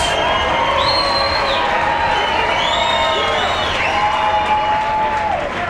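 A crowd at a professional taekwondo event cheers, whoops and applauds steadily and loudly, with individual shouts rising above the roar.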